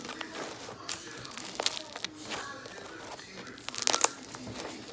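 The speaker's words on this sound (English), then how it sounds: "That's a good crunch." Squeezed slime gives off close, faint crackling crunches and crinkles in irregular bursts, with a denser cluster of sharp crunches near the end.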